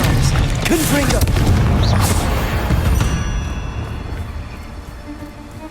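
A Confringo blasting spell goes off in Hogwarts Legacy as a loud, broad booming burst with crackling debris, holding strong for a few seconds before fading into a lower rumbling tail.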